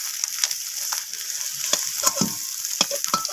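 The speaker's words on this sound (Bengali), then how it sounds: "ডিমটাকে আমি এইভাবে খুন্তি দিয়ে একটু নাড়াচাড়া করে নিচ্ছি" An egg frying in a wok hisses continuously as a spatula breaks it into crumbly pieces, with repeated clicks and scrapes of the utensil against the metal. No voices are heard.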